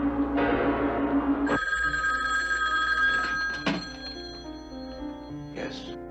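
A telephone bell rings in a dramatic film scene, a steady trilling ring that cuts off abruptly, followed by quiet clicks and handling sounds.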